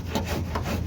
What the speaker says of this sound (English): We can use this cheese grater. This will get the bulk of the shaving down.